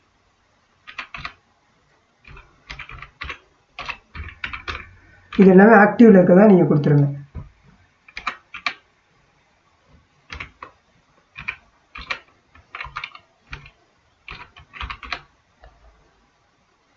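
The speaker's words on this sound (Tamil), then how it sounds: "மொபைல் நம்பரை டைப் பண்ணி கொடுத்துருங்க." Keys clacking on a computer keyboard as a mobile number is entered, short bursts of taps under a voice explaining an online registration form, with a louder stretch of talk in the middle.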